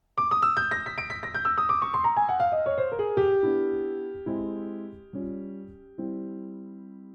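Boogie woogie piano playing the last four bars of the right-hand part of a Christmas boogie, a descending run of bright notes that settles into a few sustained, repeated chords, heard alone and close.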